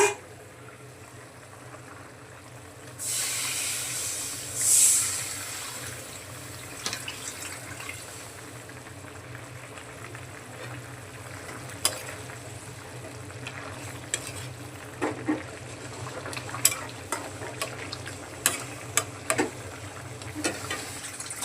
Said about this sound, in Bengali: ঝোল ফুটে গেছে, এখন ভেজে রাখা মাছগুলো দিয়ে দিচ্ছি।